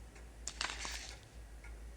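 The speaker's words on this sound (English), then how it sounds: "Clock makes noise." A clock ticks in the horror game Spirit Hunter: NG, a few faint, close clicks over low background hum.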